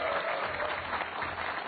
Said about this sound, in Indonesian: Ya dong, tepuk tangan.